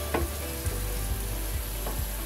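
Jackfruit seed kofta balls frying in hot oil, a steady close sizzle with a few soft knocks of a spatula turning them, and no talking.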